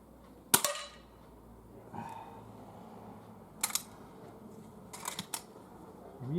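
Weihrauch HW45 .22 air pistol fired at full power at a 10 metre competition target, a few sharp snapping shots spaced seconds apart, including one quick double crack, against a quiet background.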